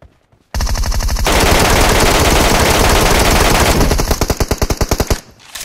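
Loud, close automatic gunfire in PUBG Metro Royale roars in one long sustained burst, then breaks into distinct rapid shots before stopping.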